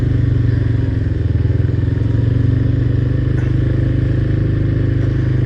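An ATV rides through flood water, its engine droning loud and steady with a fast throbbing pulse and a splashy wash mixed in, close and continuous without talk.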